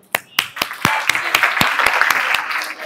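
A small group clapping in a classroom, sharp individual claps at first that quickly build into dense, close applause lasting a few seconds.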